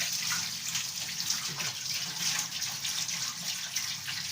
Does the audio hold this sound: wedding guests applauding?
no